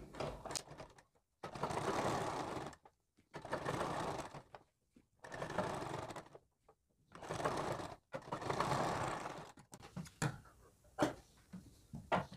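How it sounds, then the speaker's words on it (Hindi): A sewing machine runs a loose basting seam along a blouse neck in several bursts of stitching separated by short pauses, close and steady, with faint mechanical clicks at the end. "अब इस नेक को हम ऐसे पलट कर यहाँ पर ऐसे एक कच्ची सिलाई लगा देंगे"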